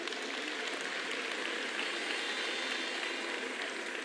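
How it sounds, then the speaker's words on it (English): Audience applause at a political party's federal congress, a continuous, even wash of many hands clapping in a large hall, moderately loud and steady with no voices over it. "let's give yesterday's winners one more round of applause."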